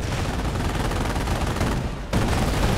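Rapid, loud, continuous machine gun fire rattles out in Company of Heroes, a dense burst that briefly dips and then resumes at full intensity.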